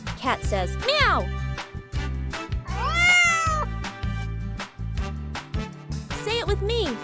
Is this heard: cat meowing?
yes